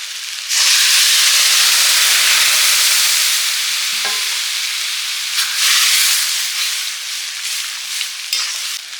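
Lentil dal poured into a hot pan of fried onion, chilli and turmeric gives a loud, steady hiss of steam and sizzling, near and continuous, with faint stirring clinks and a soft tap or two toward the end.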